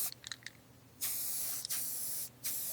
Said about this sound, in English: First, we soak every bolt with penetrating oil